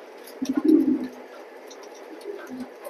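Grizzle pigeons kept in a pair, one soft throaty coo up close in a quiet room, then a fainter low murmur.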